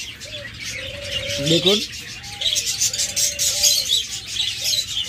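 Cockatiels offered in pairs at a bird seller's, giving repeated short chirps and whistles close by while someone talks over them.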